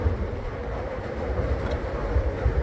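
A train rumbles through Chicago's South Loop neighborhood as a steady low roar with faint clatter, moderately distant and continuous throughout, with no voices.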